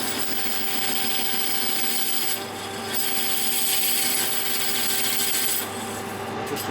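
A lathe cuts partway into an alloy workpiece, producing a steady, close, raspy scraping hiss with an underlying machine hum that runs without a break throughout.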